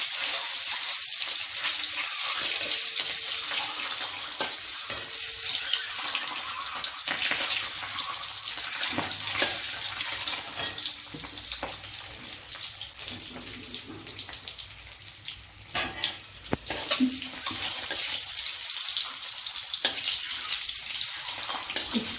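Two eggs frying in hot oil in a pan, a steady close sizzle and hiss running throughout with small crackling pops, no talking.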